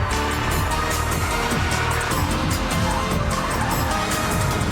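Two cars, one of them a BMW 535d, sliding and skidding around a test track corner, with loud continuous engine roar and tire noise, faint squeals and scrabbling over a steady drone.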